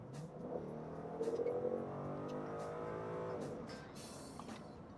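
A 2015 Ford Mustang GT with its 5.0 V8 accelerating, a steady rising engine drone with layered harmonics that swells around the middle and holds loud before easing off, with no talk over it.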